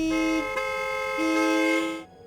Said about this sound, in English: 3 cabs came from different directions and started flashing their lights and honking their horns.